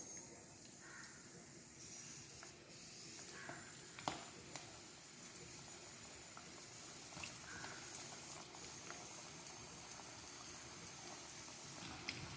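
Chicken pakoda pieces sizzle and bubble in hot oil with a steady, soft crackling hiss and scattered pops.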